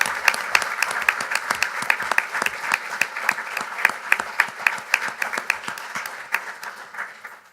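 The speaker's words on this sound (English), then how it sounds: "Let's have a round of applause." Audience applause for Roosevelt, Waipahu and Aiea High Schools at a Pacific conference session, a steady wash of many hands clapping with sharp individual claps standing out, continuous and moderately loud throughout.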